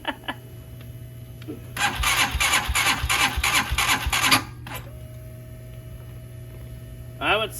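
Hawk DLX engine cranking at 10°F with a jumper box attached, a loud rapid grinding of the starter for about two and a half seconds over a steady electrical hum, then a short second crank near the end.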